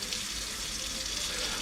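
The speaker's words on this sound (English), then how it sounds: "now I can wash my hands" Steady hiss of water running from a kitchen tap while hands are rinsed underneath, fairly close and continuous, with no clear voices.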